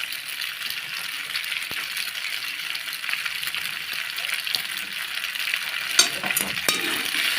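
Pasta coated in tomato sauce sizzles steadily in a pan, a bright, even frying hiss with occasional soft scrapes and knocks of a spoon as it is gently stirred.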